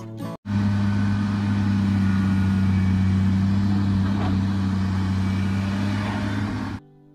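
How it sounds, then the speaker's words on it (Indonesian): A heavy-equipment excavator's diesel engine idles steadily with a strong low hum that holds for several seconds. It starts abruptly and cuts off abruptly. "ini yang terakhir ya, namanya excavator ya teman-teman"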